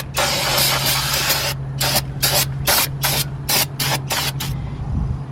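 Brake cleaner from an aerosol can hisses in a long blast and then a string of short, sharp bursts onto a 5th wheel trailer wheel spindle, over a low steady hum.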